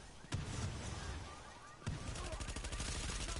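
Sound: assault rifle gunfire in a video game

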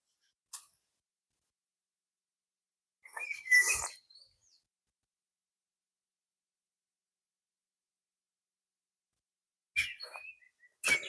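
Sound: birds singing

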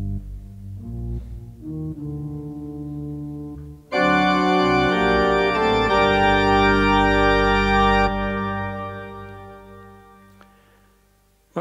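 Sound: Johannes pipe organ playing without pedal couplers

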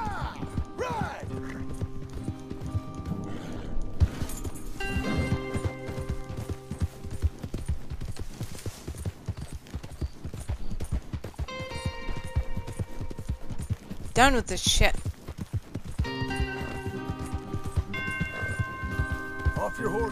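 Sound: horse hooves galloping in the video game Red Dead Redemption 2

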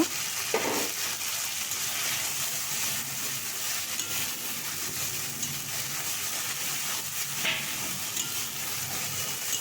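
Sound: coriander-cumin paste sautéing in a pan

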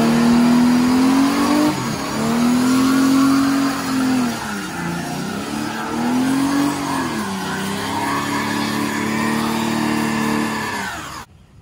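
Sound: car doing a burnout, engine revving

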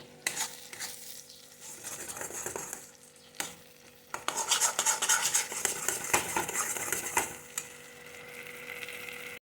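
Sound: stirring food in a pan on the gas stove

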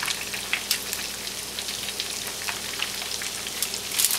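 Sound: chicken pieces frying in a pan for KFC-style chicken

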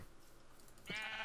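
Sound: sheep bleating in a video game field

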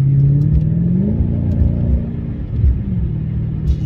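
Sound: car engine running

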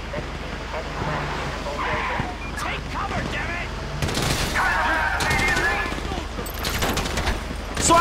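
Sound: gunfire in the video game GTA V

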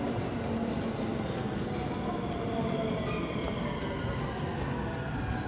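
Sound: commuter train arriving at station

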